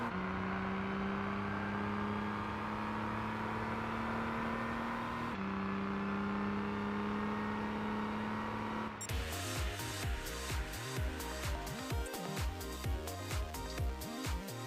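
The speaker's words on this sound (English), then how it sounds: "This sounds like a nice normal street car right now." In Gran Turismo 6, during National A career races, a street car's engine hums at a steady pitch, shifts gear and holds, then breaks into choppy, stuttering revving with tire noise, all quiet and with no talking.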